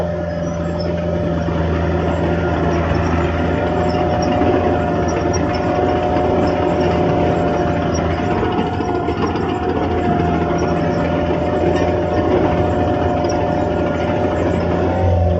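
Late-1980s Caterpillar 943 track loader engine running close by, a loud steady diesel rumble with a constant low hum and no variation in pitch.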